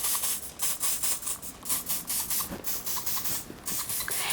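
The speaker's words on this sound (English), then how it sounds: "Give it a last spray." Hairspray is sprayed onto retro-styled waves in a run of quick, close hissing bursts, about three or four per second, each a short airy spritz.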